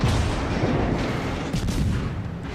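Naval guns fire in salvos in World of Warships, making a dense, continuous roar of booming blasts. The sound is loud and sustained throughout, with a sharper crack about midway.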